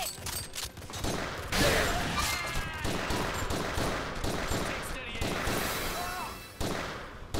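Rapid bursts of gunfire and impacts sound during combat in the video game Final Fantasy Type-0 HD. The volleys are dense and continuous, and in-game voices are mixed in.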